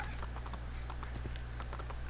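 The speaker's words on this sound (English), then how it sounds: "Wow, look at that horse run." A horse galloping in the video game Assassin's Creed II, quick rhythmic hoofbeats over a steady low hum, faint and continuous across the short stretch.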